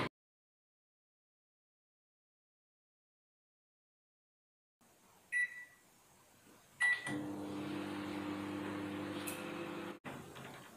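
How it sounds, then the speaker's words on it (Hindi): After a short silence, a couple of electronic beeps sound, then a microwave oven melting ghee hums steadily for a minute before stopping abruptly. "मैं 1 मिनट के लिए माइक्रोवेव करूंगी।"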